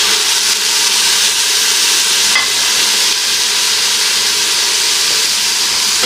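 One kilogram of beef with ginger and garlic sizzles as it fries in a pot for Afghani pulao, a loud, continuous hiss and crackle that stays steady throughout, with no one talking.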